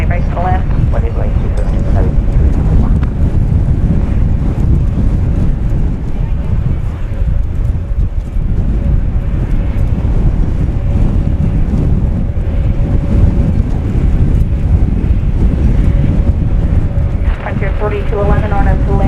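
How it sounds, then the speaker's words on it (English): A strong wind roars across the microphone at DFW Airport, a loud, continuous, gusty rumble that never lets up, with a brief voice faintly audible near the end. "the wind is starting to try to replicate the velocity we had on Tuesday night now"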